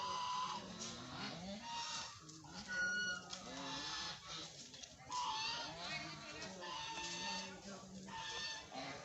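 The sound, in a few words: ducks walking along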